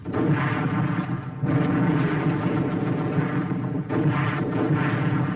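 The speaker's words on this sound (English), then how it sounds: "Mortar." Mortar fire rumbling continuously in a heavy, low, roaring wash, with brief dips at about one and a half and four seconds before the roar surges back.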